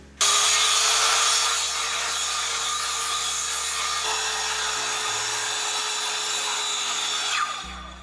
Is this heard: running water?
no